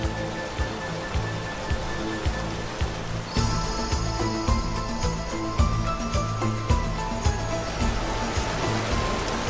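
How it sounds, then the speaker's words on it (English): Steady broadband rush of a waterfall at Kharbozan, heard close up, a continuous dense roar of falling water with no voices. "Our proximity to the waterfall conveys a feeling of strength."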